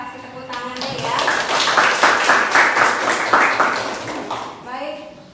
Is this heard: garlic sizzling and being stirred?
no